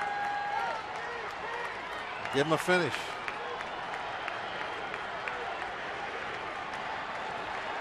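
Crowd at a Pittsburgh baseball stadium game against Detroit, continuous applause and cheering beneath a broadcaster's commentary, with a brief passing whoosh near the middle.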